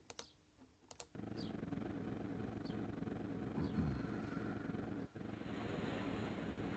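Helicopter in the Chopper Rescue game app: a steady, broad rotor whir starts after a few sharp clicks and keeps going at an even level to the end, with a brief dip near the five-second mark.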